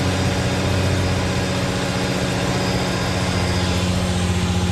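An Infiniti G35 engine idles with its stock air box and filter, a steady low hum with even harmonic tones, close and unchanging, with no talking.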